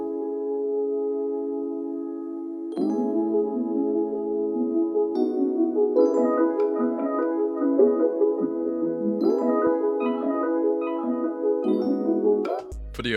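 Mellow Rhodes electric piano from a Lounge Lizard plugin layered over a sustained Prophet synth pad, playing a looping chord progression with soft repeated chord stabs, chorus and reverb, steady and moderately loud with no voices.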